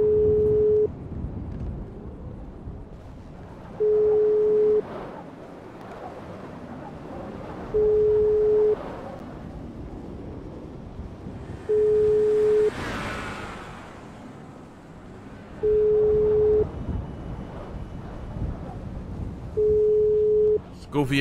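Phone call ringing tone in GTA 5 roleplay: six evenly spaced long electronic beeps about four seconds apart, loud and steady, with game ambience and someone talking in between.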